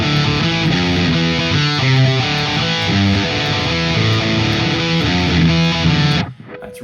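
Distorted electric guitar through a Quad Cortex preset plays a driving punk riff of chugging power chords, loud and alone, then cuts off abruptly near the end.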